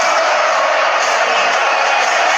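Stadium crowd of Argentina supporters at a simulated Argentina vs France football match, a loud, steady wall of cheering and chanting that holds throughout without pause.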